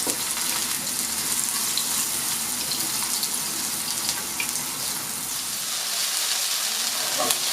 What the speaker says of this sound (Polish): Wszystkie smażymy po jednej i po drugiej stronie do zarumienienia się.